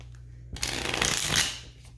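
Tarot cards riffled and shuffled in one close, continuous rustling burst lasting about a second and a half, with no talking over it.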